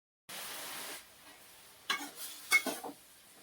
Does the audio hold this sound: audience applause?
no